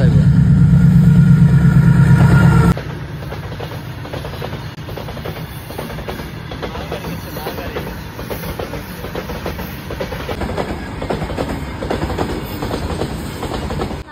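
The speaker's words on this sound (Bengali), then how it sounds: "ওখানে আবার ট্রেনটা দেখাইতেছে আপনারা ওই ধর্মনগরের দিকে থেকে আইতেছে" A passenger train running from Dharmanagar toward Agartala rumbles past close by, steady loud clickety-clack of wheels over rail joints with engine drone, after a brief louder low hum at the start.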